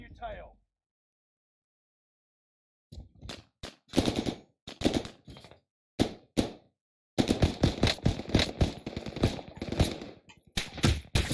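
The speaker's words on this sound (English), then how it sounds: "what is he shooting? I've only got 13 bullets." Video game gunfire crackles in loud, choppy bursts of rapid shots separated by short gaps, with a longer sustained volley near the end, while players talk excitedly over it.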